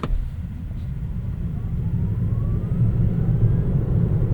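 A 2025 Tesla Model 3 Long Range (Highland) electric car accelerating hard: a steady low road rumble that swells slightly, with a faint electric motor whine rising in pitch throughout.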